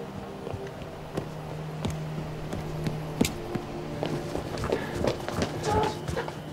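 A large mass of running footsteps approaching in an action film scene, with dense overlapping thuds and clip-clop-like beats over a low rumble that grow slightly louder and busier toward the end.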